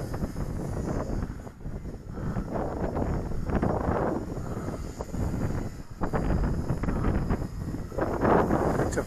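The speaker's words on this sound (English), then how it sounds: "it was super windy today, but it's calmed down a little bit in the last few minutes." Strong wind buffets an outdoor microphone on a windy day at an RC flying field, a loud, continuous rumbling roar that surges in gusts throughout.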